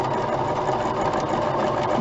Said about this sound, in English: As long as my machine can straight stitch and zigzag and back stitch